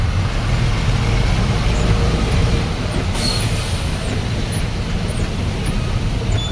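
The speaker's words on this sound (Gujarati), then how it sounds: "फुल ट्रैफिक નો માહોલ છે અત્યારે" Steady broadband roar of a rain-soaked highway traffic jam near Vadodara, continuous vehicle rumble and wet hiss close by and fairly loud, with no talking.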